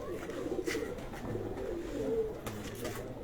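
A golden pigeon gives soft, low coos, faint against a murmuring background with distant voices.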